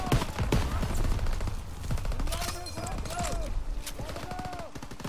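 Rapid bursts of gunfire in the Call of Duty WWII D-Day beach landing, dense and continuous with explosions and battle noise, while a person talks over the fighting.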